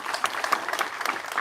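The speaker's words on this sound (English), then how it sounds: "you clap your hands." Crowd at a political party launch event clapping their hands, a dense burst of many claps with distinct sharp hits throughout, moderately loud and steady over a short stretch.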